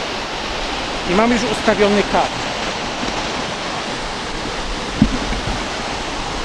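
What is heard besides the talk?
waterfall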